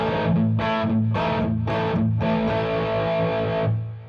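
A distorted electric guitar chord where a palm-muted bass note is picked in a chugging rhythm, several short muted pulses followed by a longer ringing stretch that fades out, with no talk.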